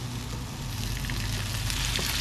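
Chopped onions sizzling steadily in a pan just after a little olive oil and butter are added, a dense, even crackle of frying that holds at a constant level throughout.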